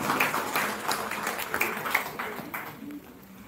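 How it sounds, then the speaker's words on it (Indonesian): An audience at a scout council meeting in a school claps for several seconds, a moderately close patter of hands with scattered louder claps that thins toward the end. "Tentu kami berikan aplaus yang mulia yang benar."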